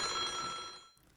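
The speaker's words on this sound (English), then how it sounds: "The sound of ringing echoed through the spacious hall." A telephone bell rings in a spacious hall in the horror game St. John's Wort (Otogirisou), one loud metallic trill that fades to silence.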